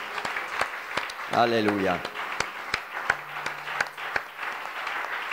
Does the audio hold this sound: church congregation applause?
yes